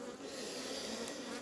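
Dense, steady buzzing of honeybees swarming around a hive colony, a continuous close hum with no talking.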